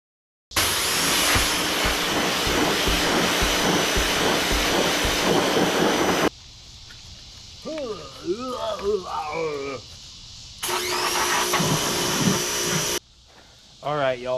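Pressure washer spraying down a rare 1965 Datsun 320 pickup truck, a loud steady hissing roar for about six seconds, then again in a shorter burst, with someone talking in the gaps between.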